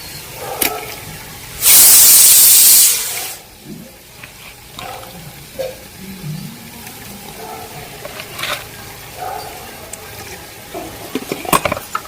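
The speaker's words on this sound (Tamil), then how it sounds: "சிக்கன் ஆட் பண்ணி நல்லா ஒரு 2 மினிட்ஸ் வந்து இந்த மசாலா நல்லா வதக்கி விட்டுருங்க." Half a kilo of chicken tossed into spicy masala for biryani hits the pan with a loud burst of sizzling, then settles into quieter frying with intermittent scraping and clinking stirs.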